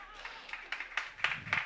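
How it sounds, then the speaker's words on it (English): Scattered applause from an audience, a handful of distinct claps that grow louder and closer together toward the end. "Big applause."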